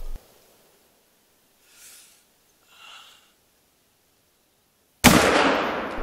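A single sharp hunting rifle shot in theHunter: Call of the Wild cracks loudly and decays with a long echoing tail, preceded by near-silence with a couple of soft breaths.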